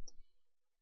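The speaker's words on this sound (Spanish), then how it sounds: "hacemos un clic derecho aquí y le decimos copiar" A single crisp computer mouse right-click near the start, quiet and close, followed by near silence.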